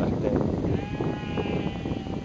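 A sheep bleats in a wavering, drawn-out call that rises over a noisy outdoor background at moderate distance, with no clear talk over it.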